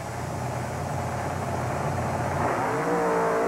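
A racing truck launches off the line at a 1996 Canfield event, its engine roaring loud and steady, then rising in pitch as it accelerates away.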